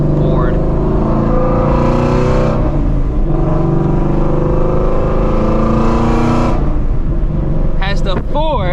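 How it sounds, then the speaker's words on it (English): A Ford Mustang GT with a Ford Borla exhaust system drones loudly and steadily with swelling revs, close to the microphone, while people talk over it. "Don't want to interrupt the exhaust note."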